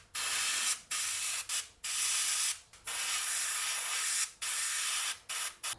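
Gloss varnish is airbrushed onto a 1/48 scale ICM MH-60L DAP helicopter model in a run of close, steady spray bursts separated by short pauses, with no talking.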